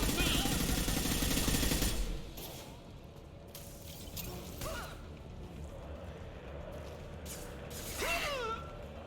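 Gunfire in the video game Mass Effect 2, a loud burst of rapid shots up front that gives way to quieter scattered impacts and whooshes, with a voice speaking over the combat.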